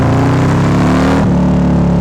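A Harley-Davidson motorcycle with a 131 engine runs at a steady idle, a loud, deep, throbbing low rumble with a slight shift in tone partway through.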